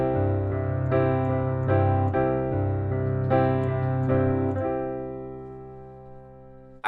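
Piano playing a pop chord rhythm in 6/8 with a syncopated left hand, steady repeated chord strikes in a lilting pattern over sustained bass notes, ending on a held chord.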